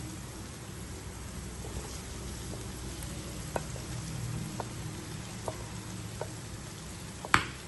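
Mashed potatoes with tandoori masala are stir-fried in a pan for aloo bharta, giving a soft steady sizzle with a few faint scattered spoon clicks and one sharper knock near the end, with no talking.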